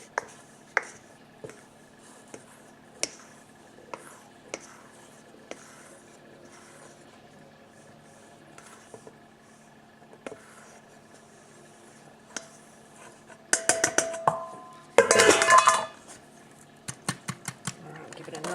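Dry ingredients for a chocolate mud-cake cookie get sifted, a soft scratchy rasp in bursts with scattered light taps and knocks of bowls and cups, louder shaking passes near the end, with talk at points.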